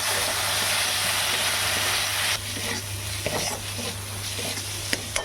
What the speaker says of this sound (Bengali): একটু মশলাটা কষা হয়ে যাবে, এরপর আমি একটু কাশ্মীরি লঙ্কার গুঁড়ো অ্যাড করে দিলাম।